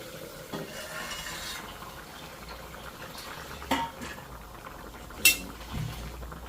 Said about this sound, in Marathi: आता आपण झाकण आहे ते काढून घेऊया